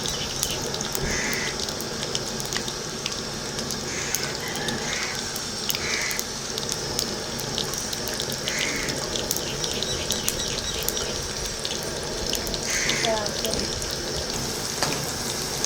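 Okra sliced for bendakaya fry sizzles in hot oil with a steady, dense crackle and hiss that carries on throughout, close and fairly loud, with faint talking now and then.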